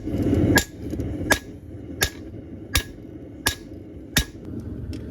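Hammer blows on a spring fuller drawing out a chef's knife tang at the anvil: six sharp metallic strikes spaced evenly about every two-thirds of a second, close and ringing over a low background hum.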